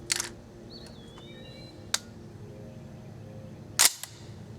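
A Remington Model 1100 shotgun fires three sharp, brief cracks spaced a couple of seconds apart. The shots sound fairly distant and modest in volume over a quiet outdoor background.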